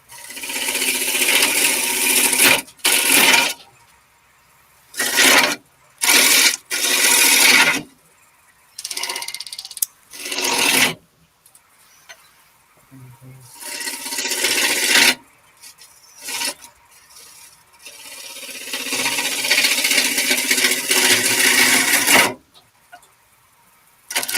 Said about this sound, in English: No, underpowered lathe, that's what that is.